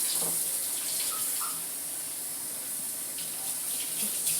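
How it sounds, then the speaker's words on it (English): Running water from a sink tap over dyed fabric being rinsed, a steady close splashing stream with faint shifting trickles throughout, no voices. "Rinsing my fabric here."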